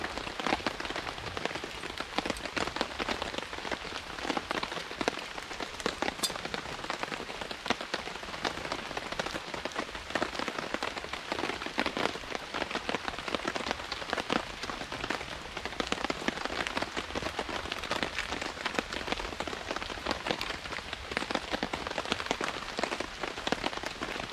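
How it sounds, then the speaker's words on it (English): Very heavy rain drums steadily on a French Army F2 tent during wild camping, a dense, unbroken hiss of close raindrops hammering the fabric throughout. "The rain is very, very heavy."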